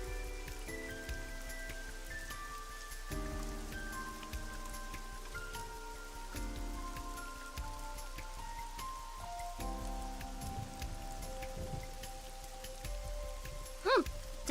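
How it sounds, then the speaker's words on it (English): Rain falls in the video game AI: The Somnium Files as a steady, soft patter, with game music chords layered over it and a brief sharper sound near the end. "This rain is awful, huh?"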